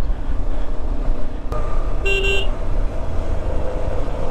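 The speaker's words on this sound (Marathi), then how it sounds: "आपला हॉर्न द्यायचा आणि निघायचं." A car horn honks in two short bursts over steady road and engine noise on a mountain road near Jispa, 10,500 ft.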